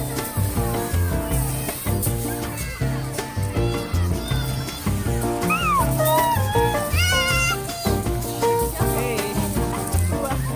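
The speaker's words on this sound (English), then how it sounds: "Kitties?" Cats in an Italian vegetable garden meow repeatedly, rising and sliding whines near the listener that run on and off. They come over a dense, busy backdrop of music and voices.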